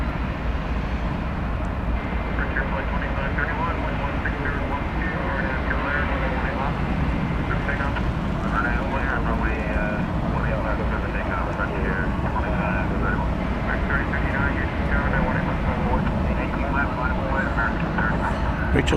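An Aerologic cargo airplane at DFW Airport gives a steady, broad engine roar that holds for the whole stretch at moderate distance, with a murmur of voices beneath it.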